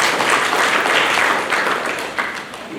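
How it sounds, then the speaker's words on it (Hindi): Audience applause in an indoor spiritual class session, a dense, steady wash of many hands clapping that holds throughout and tapers slightly toward the end. "चलो इनकी तो ताली बजाओ"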